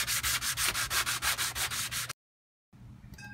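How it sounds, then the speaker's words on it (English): Hand sanding a Jeep fender with 80 grit sandpaper on a small pad: steady rhythmic back-and-forth rasping strokes, close and loud, about a dozen passes, then a short pause before quieter rubbing resumes. "Now I have 80 grit sandpaper with a little pad. I'm going to bring it down to the contour of the fender."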